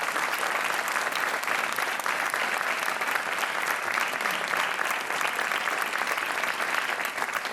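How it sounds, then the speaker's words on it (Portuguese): Studio audience at the Portuguese TV game show Joker applauds steadily, a dense, even wash of clapping sustained loudly throughout without any talk. "mais um aplauso merecidíssimo"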